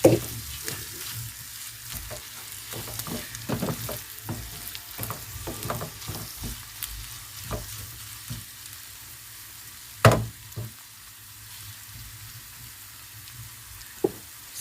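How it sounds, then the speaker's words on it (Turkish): Salted karnıyarık filling, a mix for stuffed eggplant, sizzles and fries steadily in a pan while a spoon stirs it, giving repeated scraping clicks and one sharper clatter, with no talking. "Şu şekilde tuzumu da attıktan sonra şöyle bir karıştırayım."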